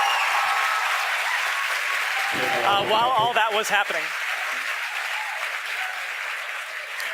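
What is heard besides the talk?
crowd applauding at SpaceX headquarters in Hawthorne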